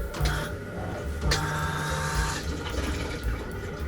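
A camper van toilet flushes inside a large motorhome: a whirring pump motor starts, then a rushing gurgle of water runs for a few seconds, close and alone without talk.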